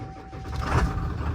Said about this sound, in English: this truck sat for almost a year, and it just started right up